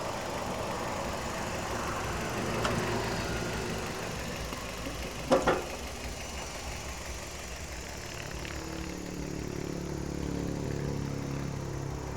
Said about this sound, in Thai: เครื่องยนต์เดินเรียบเงียบเลยนะครับ